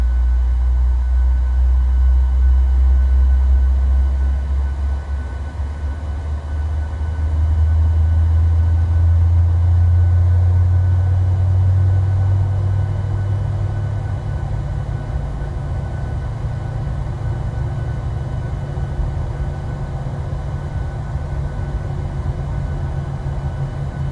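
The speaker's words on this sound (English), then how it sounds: "This is a really great startup sound from PMDG." Boeing 737-800 engines spooling up during startup in a flight simulator, a steady loud low-pitched rumble and whine that swells and holds throughout with no talking.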